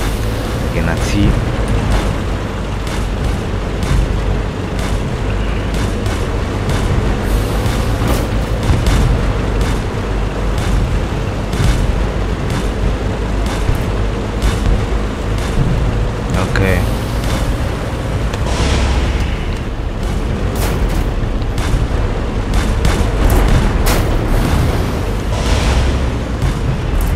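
Tanks blowing up in the video game Tank Off 2: dense, continuous booming explosions and popping blasts that rumble on without pause, with a voice talking over the din.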